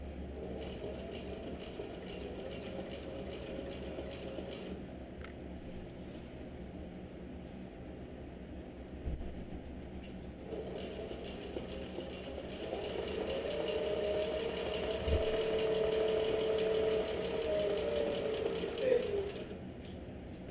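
A sewing machine runs straight across the stacked layers of a messenger bag, back-stitching and then stitching forward in a steady mechanical whir that grows louder toward the end of the seam, with brief pauses between runs.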